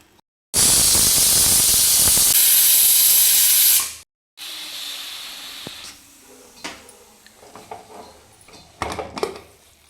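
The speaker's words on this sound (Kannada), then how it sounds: "ಎರಡು ವಿಷಲ್ ಅಷ್ಟೇ ನಾನು ಹಾಕ್ಸಿರೋದು" A pressure cooker cooking sprouted horse gram lets out a loud burst of hissing steam for a few seconds, then cuts off, followed by quieter hissing and scattered kitchen clatter.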